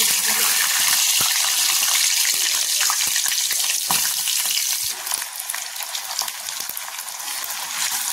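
Continuous crackling sizzle of a green chili frying in hot oil, close and steady, with scattered sharp pops throughout.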